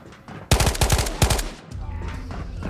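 Gunfire in Ghosts of Tabor, a loud close burst of several rapid shots in quick clusters lasting about a second, followed by a lower rumble of movement and background noise.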